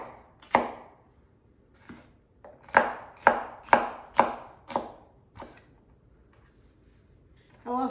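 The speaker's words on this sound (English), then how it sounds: "And so I'm just going to chunk those up." A knife chops peppers on a cutting board for a beef and cabbage dish: a close, sharp chop, then a quick run of five or six crisp strokes, a few softer taps and a final knock, with no talk.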